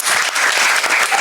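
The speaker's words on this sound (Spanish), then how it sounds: "Un aplauso para Catherine Toledo," Audience at a science talk on climate change applauding a speaker, Catherine Toledo, in a loud, close, continuous round of clapping.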